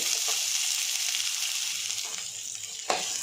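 Chana dal, urad dal, cumin and chopped onion frying in oil in a pan, a steady close hiss of sizzling with a couple of light stirring scrapes, no talking.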